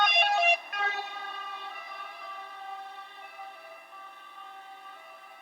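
An ambulance siren plays back from a clip, a steady wailing tone that starts loud, drops abruptly, then fades gradually as it recedes, heard alone without talk.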